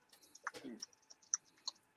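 Keys clatter on a computer keyboard during a livestreamed podcast, with scattered quick clicks and a short burst of louder tapping near the start, all close and fairly quiet.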